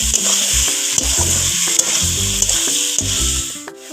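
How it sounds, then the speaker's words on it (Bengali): Pointed gourd and potato pieces are stirred in spiced oil in a pan, loud sizzling frying with repeated scraping strokes of a spatula, close and without talk. "এবার পটলটা আলুটা ভেজে রেখেছিলাম দিয়ে এবার একটু মশলাটার সঙ্গে মাখিয়ে"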